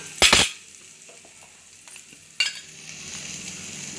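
Onions sizzling with ginger and garlic in a pan for veg fried rice, a soft steady fry broken by two sharp utensil clinks and scrapes, one near the start and one midway, with no talking.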